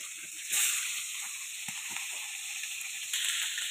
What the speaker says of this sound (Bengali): সামুদ্রিক মাছ একটু নরম হয়, তার জন্য ভেজে নিতেছি।